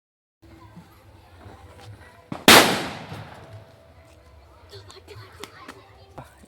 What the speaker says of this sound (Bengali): এই জল বোমটা দিয়ে অনেকটাই ফেটে গেল